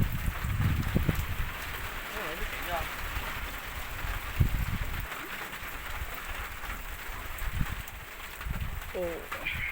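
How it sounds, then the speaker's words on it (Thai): Hard rain pours across a farm field where fertilizer is being spread during a storm, a constant loud patter with brief thumps, while someone speaks intermittently over the downpour. "ฝนตกแรงมากเลยครับวันนี้"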